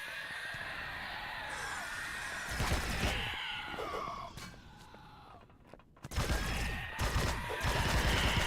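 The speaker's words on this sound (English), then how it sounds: "I'm hearing more explosions." Explosions erupt in the space survival game Empyrion Reforged Eden, two loud bursts of crackling blasts with debris, separated by a quieter stretch of fainter rumbling and mechanical ambience.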